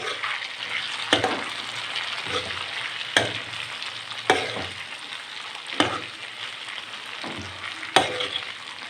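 Potato and capsicum sabzi frying steadily in a pan, with a continuous close sizzle and the sharp scrape of a spatula stirring about every one to two seconds.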